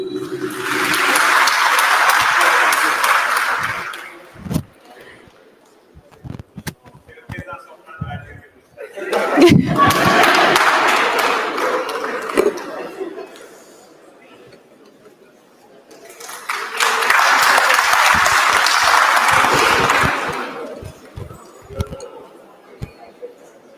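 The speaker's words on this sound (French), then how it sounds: "sous vos applaudissements, des applaudissements nourris" A ceremonial assembly with formal speeches breaks into three separate bursts of loud, sustained audience applause, each lasting several seconds, with quieter stretches of talk and murmuring in between.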